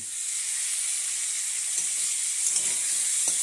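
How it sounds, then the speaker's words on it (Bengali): Small fish frying in a pan with salt and turmeric: a steady, bright, close sizzle and hiss runs throughout, with faint stirring knocks now and then. "হলুদ আর নুন লবণ দেওয়া হয়েছে, আর কষতে থাকবো"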